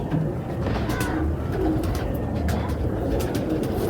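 Domestic pigeons at home cooing several times in soft, rounded calls at moderate distance, against a busy background.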